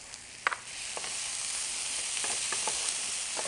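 Sliced fresh ginger and fennel sizzle steadily in a hot pan, a close, even hiss with a few sharp pops and clicks of stirring.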